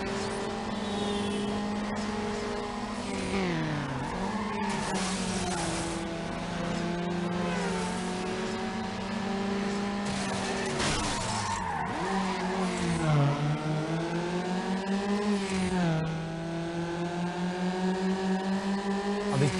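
Subaru race car in Need for Speed Underground, its engine revving up and down through gear changes while tires squeal and skid in long slides, loud and continuous throughout with no talking.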